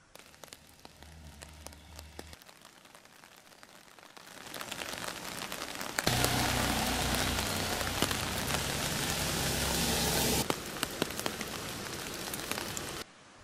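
Heavy rain during a cyclone in Sri Lanka, a soft steady patter that swells into a loud, dense downpour drumming on surfaces, then eases back near the end.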